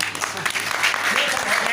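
Audience clapping at a comic Urdu poetry recital, a brief burst of crowd applause mixed with voices talking over it.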